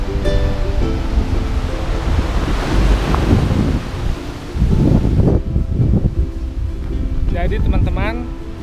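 Surf rolls onto the beach at Tanah Rubuh in South Manokwari, Papua, as a loud, continuous wash buffeted by strong wind against the microphone, with a voice briefly speaking near the end.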